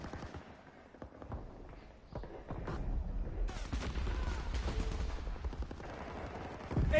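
Call of Duty WWII battle gunfire builds from scattered shots into sustained machine-gun bursts and rifle fire, fairly distant and layered, with the barrage growing denser and steadier over several seconds.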